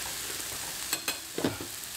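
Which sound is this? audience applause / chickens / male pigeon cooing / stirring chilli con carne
stirring chilli con carne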